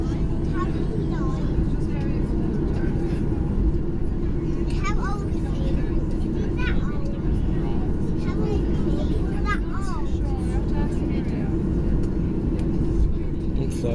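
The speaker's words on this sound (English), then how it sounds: "Flaps are retracting." Airliner wing flaps retracting after landing at Cork, arriving from Gatwick: a steady loud cabin roar with several brief rising whines over about fourteen seconds, and faint voices in the background.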